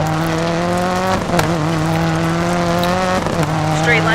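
A rally car in the DiRT 4 video game brakes into a downhill gravel turn, its loud engine droning with falling pitch dips as it slows and gravel crunches under the tires.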